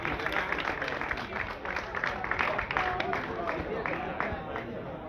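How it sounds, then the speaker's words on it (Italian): A crowd applauds at the team presentation for a regional women's cycling race in Lonate Ceppino, with steady, dense clapping sustained throughout, slightly distant, and faint voices murmuring underneath. "Applausi pubblico."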